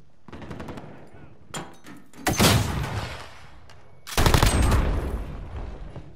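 Gunfire in Call of Duty: Modern Warfare multiplayer: scattered shots early, then two heavy, sustained bursts of rapid automatic fire, close and loud, separated by a short lull.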